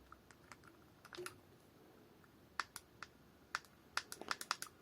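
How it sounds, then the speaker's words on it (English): Light plastic clicks from the D-pad of a PowKiddy X18S handheld console, scattered single presses and then a quick burst of taps, faint and close in a quiet room. "you can actually push the very center of the D-pad on this one, and it makes a very loud click"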